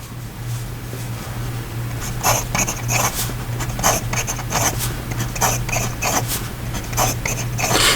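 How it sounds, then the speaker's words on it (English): A fountain pen with a medium nib scratches quickly across paper in a fast writing sample, producing quick bursts of scratchy strokes with short pauses between them, close and clear over a low background hum, with no voices. "Let's do one more fast writing sample with just the medium nib."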